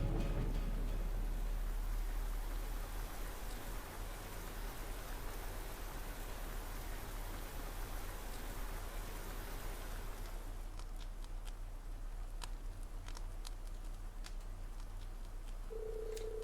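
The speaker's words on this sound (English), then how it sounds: "Here comes the rain." Steady rain pours in a Trails of Cold Steel IV game scene, a dense continuous hiss that fills the whole stretch, thinning slightly toward the end as faint tapping and a brief tone appear.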